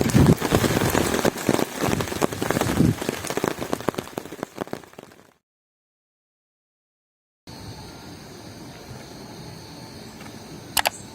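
Heavy rain pours steadily on a campsite on a cold, foggy night, a dense patter of drops close by. It cuts to silence for a couple of seconds, then returns as a softer, even hiss.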